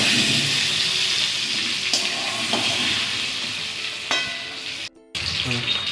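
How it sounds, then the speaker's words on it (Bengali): Potatoes frying in hot oil until reddish-brown, a steady close sizzle with a few sharp crackles and stirring scrapes, and a brief drop to near silence just before the end. "আলুগুলো লাল করে ভেজে নিচ্ছি একটু"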